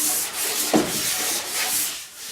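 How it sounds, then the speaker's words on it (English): Light hand sanding of a wood surface after grain conditioner has been applied, heard as a close, steady soft rubbing and scratching with gentle back-and-forth swells and no voices. "So we just give it a really light sand like that."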